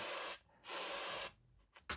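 Deoxit contact cleaner sprayed from a can onto a Commodore 64 part in two short hissing bursts with a pause between them, then the start of a third, close and quiet.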